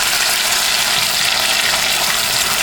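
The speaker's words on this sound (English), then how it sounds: "I'm going to add a little bit of water, not much." Water poured into a hot pan with tomato paste makes a loud, broad sizzle and hiss that stays steady and close throughout, with no talking.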